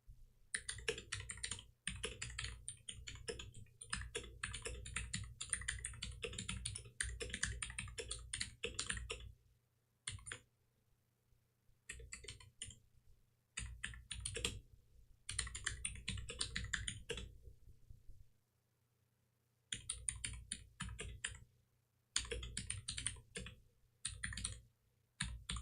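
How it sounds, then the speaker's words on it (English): Rapid typing on a computer keyboard in a home studio, steady bursts of close clicking keystrokes broken by short pauses, with no talking. "let me type something before"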